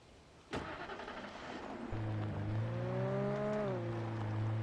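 A stolen car's engine cranks and starts in the video game Alan Wake Remastered, with a sharp click followed by a brief whir, then a steady low idle hum that rises slightly before settling, moderately loud and alone.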